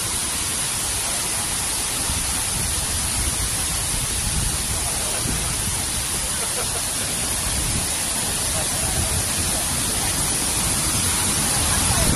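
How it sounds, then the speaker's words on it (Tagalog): A waterfall in Taiwan roars in a dense, unbroken hiss of falling water that stays loud and steady the whole time. "Ayan guys, andito kami sa waterfalls."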